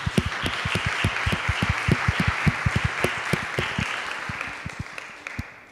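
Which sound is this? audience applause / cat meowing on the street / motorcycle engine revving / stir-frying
audience applause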